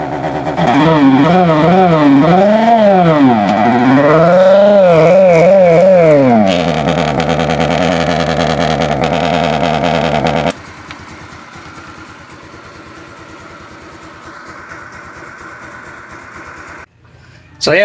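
A motorcycle engine fitted with a DIY exhaust switch revs loudly up and down in rising and falling sweeps, then settles into a steady idle that drops quieter after the switch change.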